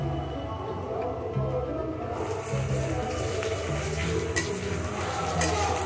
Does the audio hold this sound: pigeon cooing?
no